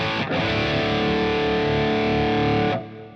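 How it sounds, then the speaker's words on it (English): Electric guitar played through an overdrive pedal modeled on a Boss Overdrive in a Positive Grid Spark amp, a thick, sustained distorted chord ringing for nearly three seconds before cutting off cleanly. "The next pedal is an overdrive pedal, something like a Boss Overdrive,"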